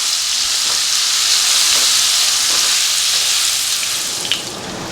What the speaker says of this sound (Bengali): পটলের ভেতর যে শাঁসটা ছিল ওটাও ভেজে নিতে হবে।